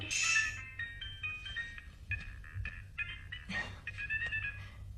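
A phone rings with an incoming call in an Indonesian TV drama, its electronic melody of bright repeating tones sounding for several seconds over a quiet room with no talk.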